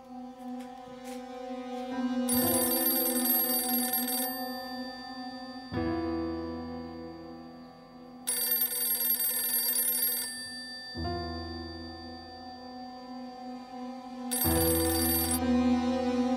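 A telephone rings in repeated electronic bursts, loud and close, each ring lasting about two seconds with pauses between.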